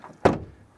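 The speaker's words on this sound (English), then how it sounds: "yeah, here the door closing sound is really bad actually." The frameless door of a BMW i4 M50 shuts with a single short, hollow thunk, fairly close, with a brief rattly decay afterward and nothing else in the background.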